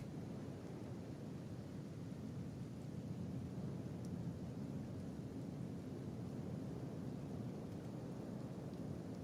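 Steady rain-like roar with low rumbling thunder in the video game Kenshi during an acid rain storm, a continuous broadband wash with no talk.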